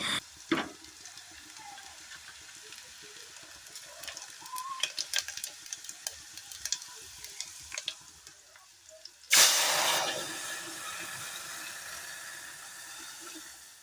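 Beans and potatoes fry in a pan with a quiet sizzle and scattered utensil taps. Near the end, a loud burst of hissing sizzle bursts up and then fades back down.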